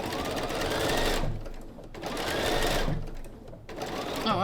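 A sewing machine stitches quilt block pieces at a tight 1.6 stitch length, running in three close bursts of steady, fast whirring separated by short pauses as the fabric is handled.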